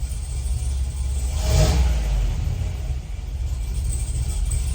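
An LT4 V8-swapped Cadillac Escalade engine rumbles at idle, rises in a short rev with a deep exhaust growl, then settles back to a low steady burble.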